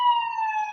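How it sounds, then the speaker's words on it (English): An emergency vehicle siren sounds loud and steady on a sustained electronic wail, heard alone in a city neighbourhood with no talk over it. "sorry about this, siren"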